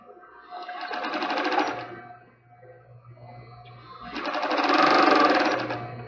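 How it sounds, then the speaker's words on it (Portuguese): A sewing machine stitches fabric and lace while sewing a double-strand thong panty, running in two loud sustained bursts separated by a short quieter pause, with no talking. "ligando a nossa máquina. Vamos começar costurando"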